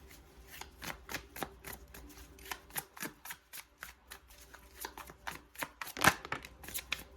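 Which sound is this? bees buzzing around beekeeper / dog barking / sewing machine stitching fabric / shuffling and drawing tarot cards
shuffling and drawing tarot cards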